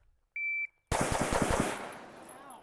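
An electronic start beep, then a rapid burst of gunfire from a shooting drill, about eight quick loud shots in a row followed by a ringing, decaying echo.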